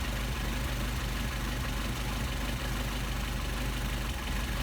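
A Mercedes 190SL engine idles steadily after a Solex carburetor adjustment, a dense, continuous rumble heard close up with a faint regular knocking pulse and no talk.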